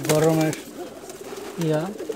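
Domestic pigeons let out of their loft give two deep, throaty coos close by, each about half a second long, separated by a short pause with only faint background hiss.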